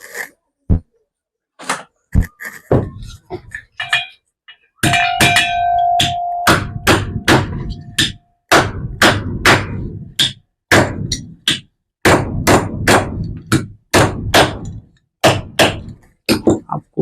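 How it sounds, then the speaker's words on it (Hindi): A hammer drives a greased ceiling fan bearing into place, striking the side of the bearing. Sparse taps give way to a steady run of sharp, close metallic knocks with short pauses between them. "आपको बेरिंग की साइड में हथौड़े से मारना है, आपको बीच में हथौड़ा नहीं मारना"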